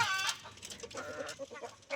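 Chickens cluck nearby in short, quick bursts, a few soft clucks following a brighter squawk at the start, while being fed cashew apples.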